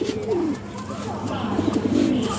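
A domestic pigeon kept for breeding coos nearby in low, rolling phrases, one burst early and another toward the end, over a faint background.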